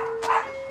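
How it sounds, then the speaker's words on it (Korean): A single short bark from a house dog in a family home in Asan, South Korea, loud and close, standing out briefly over a steady background hum. "짖는 소리부터가 심상치 않은데."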